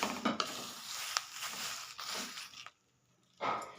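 Cumin and caraway seeds dry-roasting in a pan, giving a soft scraping rustle with faint crackle and occasional clinks as they are stirred, then a brief pause before stirring resumes.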